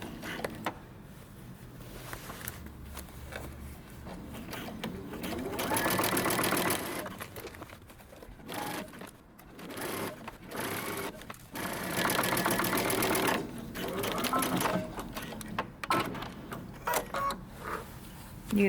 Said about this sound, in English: we're going to stitch all the way around our sleeve, going slowly